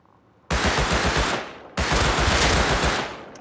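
Two long, loud bursts of rapid automatic gunfire from an extended-magazine weapon in the video game Warzone, each lasting over a second with a brief pause between them, close and dominating the scene.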